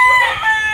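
A short, loud burst of crowing from a red-eyed White Chocolate fighting rooster, close by and heard on its own.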